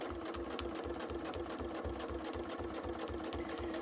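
A sewing machine stitches a couched bag in a fast, even mechanical rhythm, steady and close throughout.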